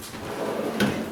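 A sewing machine cabinet drawer slides open with a brief wooden scrape and soft clunk, close and fairly quiet.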